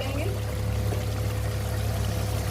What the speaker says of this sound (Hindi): अब हम इसके अंदर थोड़ा सा पानी डालेंगे